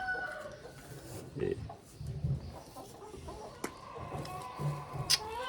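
Scattered hen clucks and soft fowl calls come from close by, with a faint rooster crow and low farmyard rustling throughout.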